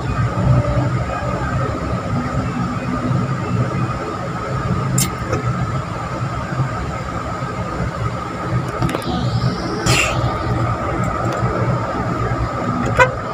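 Wuling Air EV electric car driving over a bumpy, undulating road, with steady road and tire rumble heard from inside the cabin, loud and continuous, plus a couple of brief sharp knocks partway through.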